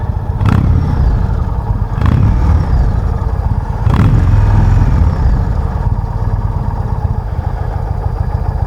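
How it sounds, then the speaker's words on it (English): A 2019 Indian Chieftain Limited motorcycle with its stock exhaust idles steadily and fairly quietly up close, a low continuous rumble with three brief sharper blips or clatters in the first few seconds. "this is the stock exhaust, so maybe because it's kind of quiet at idle"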